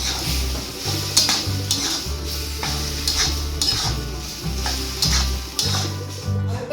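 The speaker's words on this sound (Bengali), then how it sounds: "একটু জিরের গুঁড়ো দেবো, একটু নুন দেবো, এবার নাড়াচাড়া করে নেবো।" Drumstick leaves with cumin powder and salt are stirred in a frying pan, with rhythmic scraping strokes of a utensil against the pan repeating roughly every second over a continuous close sizzle.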